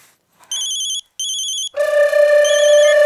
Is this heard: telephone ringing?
yes